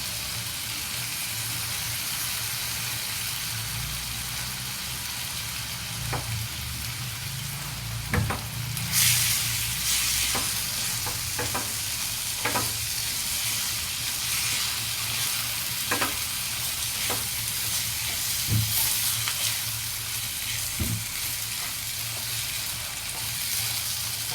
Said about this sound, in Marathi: मी डाळ फ्राय करून घेतली त्यानंतर आता तांदूळ टाकूया